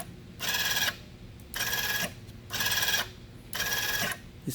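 An electric motor raises a motorcycle touring center stand, whirring in four short, even bursts with brief pauses between them. The motor is close and moderately loud, and it runs with no voices.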